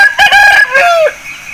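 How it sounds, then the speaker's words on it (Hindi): An Aseel rooster crows loudly and close by, one long cock-a-doodle-doo with a rising start and a falling, drawn-out finish. No one talks over it. "ये मुर्गा है"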